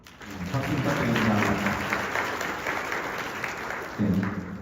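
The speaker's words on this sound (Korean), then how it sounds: "박수 부탁드립니다." Students and guests at a high school freshman welcome and appointment ceremony break into a burst of applause that swells quickly, holds steady, then tapers, with a brief renewed surge near the end.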